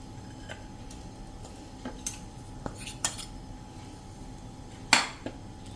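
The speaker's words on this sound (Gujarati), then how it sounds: "હવે આને આપણે એક બોલમાં કાઢી લઈએ." Ghee-coated churma mixture scraped and transferred into a bowl with a spoon: scattered light metallic clinks and taps against the vessel at irregular intervals, one louder clack near the end, no talk.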